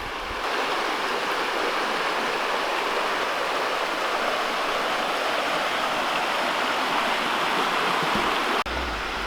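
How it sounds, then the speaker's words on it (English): Steady rushing water of a mountain creek in Cataloochee Valley flows continuously, a broad even wash running over rocks, with no voices. "But the creek's still very pretty."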